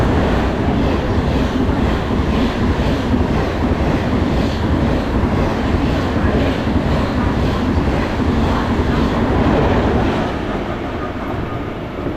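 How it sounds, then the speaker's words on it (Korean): A train rumbles steadily past at close range without stopping, running through the platform 2 track of a Korean station, a dense continuous roar with faint rhythmic wheel clatter that eases slightly near the end. "타는 곳 2번으로 들어오는 열차는 우리 역을 통과하는 열차입니다"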